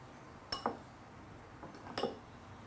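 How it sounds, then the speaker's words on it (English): Two pairs of soft clinks and scrapes as a spoon mixes sticky rice in a bowl, with quiet pauses between. "grab a spoon and you wanna mix this"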